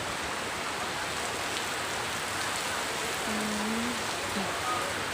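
Rain falls steadily at an outdoor annual temple fair, a dense, even hiss of drops on surfaces filling the whole span, with a faint tone rising briefly in the middle.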